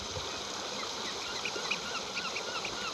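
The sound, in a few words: birds calling at a harbour railway station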